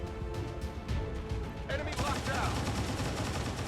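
Rapid bursts of automatic gunfire from area suppression in the video game XCOM 2 Long War 2 swell into a dense, sustained rattle in the second half, with game sound filling the background.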